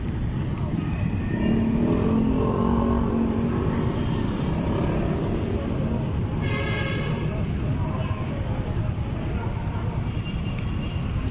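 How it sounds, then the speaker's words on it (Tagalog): Car traffic on EDSA Cubao in Quezon City makes a dense, continuous engine rumble with passing vehicles, while someone talks over it. "Yan na po yung mga sasakyan galing po ng"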